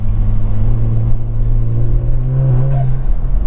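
A Kia Stinger GT fitted with an MBRP exhaust gives a loud, deep, droning engine note up close, holding steady and then rising slightly as it revs during a drive.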